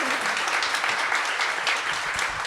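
Audience applause at a TV festival writers' room panel, a steady dense wash of clapping from a crowd that holds for the full moment without talk.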